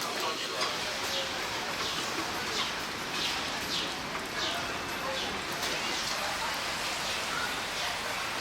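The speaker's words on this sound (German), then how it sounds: "Tags darauf es regnet." Rain falls steadily in Bergen, Norway, a continuous hiss of drops on surfaces close by, with faint bird calls and a speaking voice partly over it.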